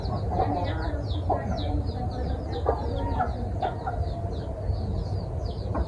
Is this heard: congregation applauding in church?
no